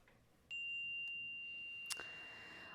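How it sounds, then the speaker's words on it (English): A meditation chime is struck once at the start of a group practice, giving a clear, pure, bright tone that rings on and slowly fades, with a faint brief click partway through. "invite the chime to sing"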